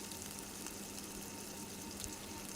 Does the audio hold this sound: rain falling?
no